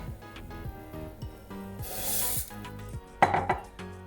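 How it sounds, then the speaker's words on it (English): Uncooked rice tipped into a pot of water coming to the boil for Colombian white rice, a brief rushing pour followed by a clatter of the pot, set over repeated low kitchen knocks and clinks. "I'm gonna put my rice now."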